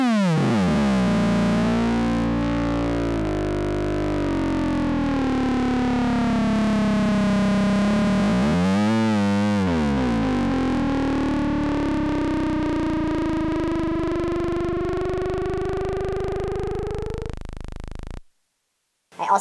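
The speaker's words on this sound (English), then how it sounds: "it also adds for some pretty cool distortion" A modified Korg Monotron Delay synthesizer with a feedback oscillation mod sweeps a loud, distorted, buzzing tone, rising and bending in pitch for many seconds before cutting out abruptly.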